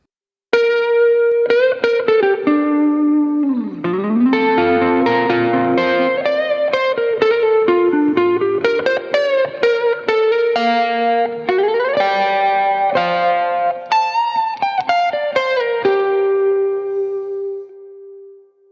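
Melodic guitar lines run through a spring reverb plugin, notes ringing out with a lush, smooth tail, playing continuously and alone before fading at the end.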